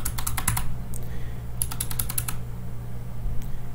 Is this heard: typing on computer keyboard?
yes